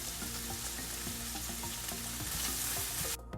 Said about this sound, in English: these are gonna go ahead and fry up